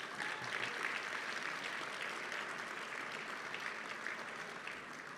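Steady applause from an awards dinner audience fills the whole stretch, a dense even patter of many hands at moderate volume with no pauses.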